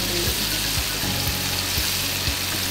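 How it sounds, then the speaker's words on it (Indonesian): Chicken skin coated in cornstarch bubbles in deep oil, a dense close-up sizzle with soft periodic stirring knocks and no voices. "kalau kulit ayam tuh gorengnya sampai benar-benar kering"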